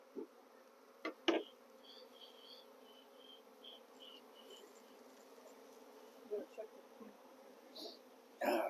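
Honeybees buzz steadily in an open hive box crowded with pollen, a continuous droning hum with a few louder passes from bees flying close by.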